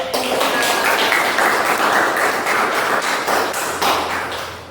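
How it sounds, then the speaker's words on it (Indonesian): A burst of clapping from an audience at an Indonesian university session, dense and fairly loud, holding steady for a few seconds with no talk over it. "tepuk tangan dulu"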